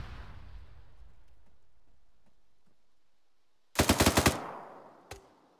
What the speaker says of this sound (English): you're free to open fire from your defensive positions